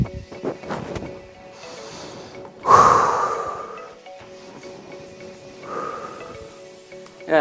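Deep breaths drawn in through the nose and let out through the mouth during an exercise session, heard as soft close nasal inhales and louder airy exhales, with no talking.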